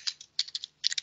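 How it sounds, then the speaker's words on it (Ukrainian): Quick bursts of keystrokes on a computer keyboard as a web address is typed into a search bar, three short clusters of crisp clicks close by with brief pauses between. "Просто пишемо у пошуковику"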